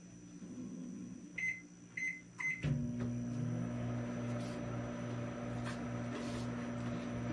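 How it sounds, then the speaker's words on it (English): A microwave oven warms a baking cover: a few short beeps from the keypad, then a steady, close hum with a low drone that runs unbroken to the end, no voices. "What I do with my cover is I warm it in the microwave."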